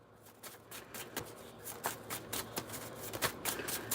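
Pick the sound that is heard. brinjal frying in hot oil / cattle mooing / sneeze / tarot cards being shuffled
tarot cards being shuffled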